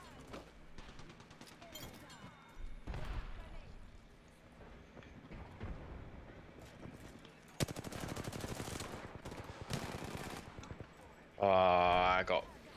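Automatic gunfire from Apex Legends comes in dense rapid bursts around the middle and end of the passage, loud and up close, with other game sounds and a speaking voice mixed in.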